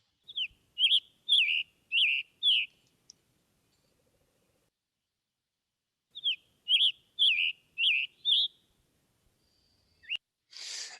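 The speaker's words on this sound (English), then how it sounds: "Here's the scarlet tanager." A scarlet tanager sings two hoarse, burry phrases of about five notes each, clear and close against silence, with a short scratchy noise at the end.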